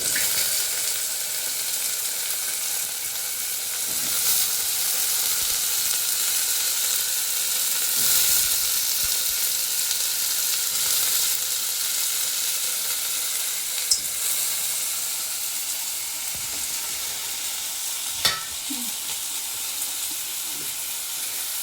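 Potatoes sizzle and fry steadily in a pan with spices, a dense continuous crackle with occasional stirring scrapes and brief clinks, close and alone with no talking.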